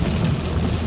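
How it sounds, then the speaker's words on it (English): Steady rain falls with a dense, even hiss and low rumble, continuous and close throughout the short stretch. "raining quite a bit"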